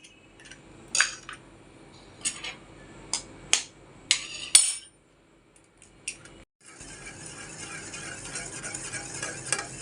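Eggs are beaten in a bowl for Chinese egg fried rice: a handful of sharp, close scraping strokes in an uneven rhythm, then a short pause before a steady soft hiss takes over.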